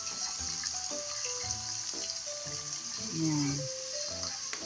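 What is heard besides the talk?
sautéing garlic, onion and tomato in a pan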